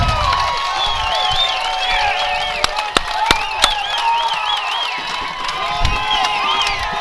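A Friendswood crowd cheering at a high school baseball playoff semifinal, sustained loud shouting and whooping with whistles and scattered claps, steady throughout.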